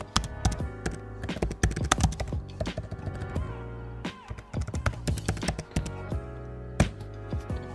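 Rapid typing on a computer keyboard, a close, dense run of clacking keystrokes in bursts with brief pauses, loud and with no voices.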